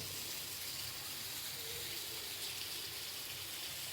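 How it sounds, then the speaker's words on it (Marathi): Heavy rain falls outside during a downpour, heard from indoors as a faint, even, continuous hiss with no voices over it. "बाहेर चालू आहे पाऊस आणि खूप जोरात चालू आहे"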